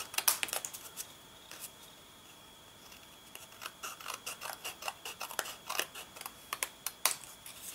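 Scissors snip through paper, cutting out a flower pot shape for a card, with a few quick snips, a quiet pause, then a steady run of close, crisp cuts.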